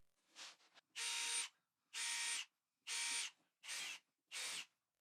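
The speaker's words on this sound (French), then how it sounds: "Après avoir percé un trou pilote de 6 mm, j'utilise une fraise étagée pour l'élargir." Power drill boring a 6 mm pilot hole in a metal grille, then a step bit widening it; five sustained high-pitched whining bursts of about half a second each, separated by short silences, close and loud.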